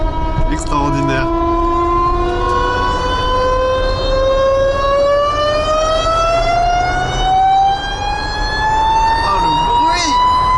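The DS X E-Tense concept car makes a strident electric whine while driving, a high layered tone that rises steadily in pitch as it speeds up, with faint voices under it.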